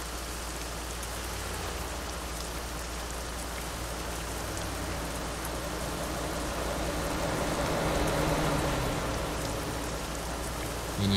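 Steady rain in the Euro Truck Simulator 2 truck-driving game, a dense continuous patter of drops on surfaces that swells slightly toward the end, with no talking over it.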